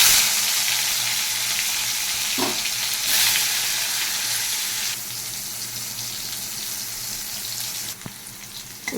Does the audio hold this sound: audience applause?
no